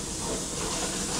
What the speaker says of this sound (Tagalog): So, gisa muna natin yung kare-kare natin